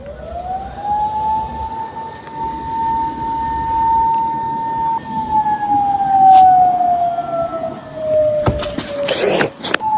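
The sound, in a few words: ambulance siren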